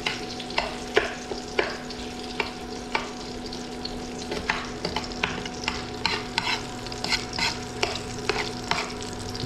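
Garlic and onion sautéing in a pan for a vegetable dish, a steady close sizzle broken by repeated spatula scrapes and stirring clatter throughout, with no voices.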